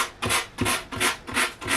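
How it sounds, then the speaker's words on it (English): Sandpaper rubbing rhythmically across the varnished wooden top of a Hagstrom acoustic guitar, stripping the dark finish: five steady back-and-forth rasping strokes, close and clear with no talking. "I've been sanding the top of the guitar using the same grade of sandpaper as I did for pulling the joint"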